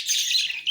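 Budgerigars kept indoors give a brief, bright burst of high chirping, close and clear, with no other sound around it.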